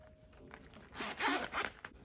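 A zipper on a Michael Kors tote bag is pulled open in a quick run of rasping strokes, close and fairly soft, with no talking.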